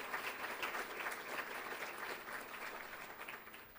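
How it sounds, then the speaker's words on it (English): Applause from guests at an honors dinner, a steady wash of many hands clapping at moderate distance, fairly quiet overall and tapering slightly toward the end. "Please give a round of applause to John and Allison for supporting"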